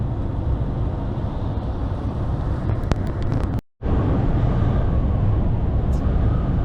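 A truck's engine revs up as it pulls away, a steady broadband roar and wind rush that fill the whole clip, cut by a brief dropout midway before the drone resumes just as loud.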